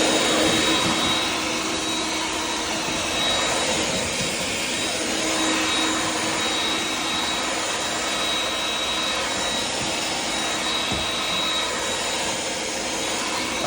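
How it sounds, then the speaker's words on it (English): Shop vac running steadily during professional floor cleaning, a loud continuous whine and rushing roar that holds unchanged throughout, with no talking. "But I'm gonna run the shop vac here."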